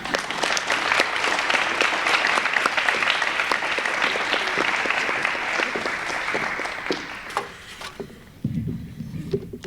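An audience claps for young writers at an evening school reading event, a loud dense round of applause that holds steady and then thins out toward the end, with a few scattered final claps.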